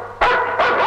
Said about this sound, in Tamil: முதல்ல நாயை கட்டுக்கோ